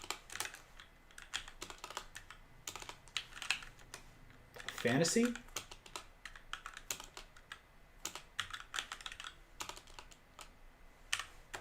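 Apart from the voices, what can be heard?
typing on a computer keyboard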